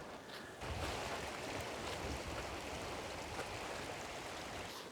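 A river flows beside a campsite in rough weather, a steady, broad rushing wash that swells in after a quieter first moment and holds unbroken with no talk.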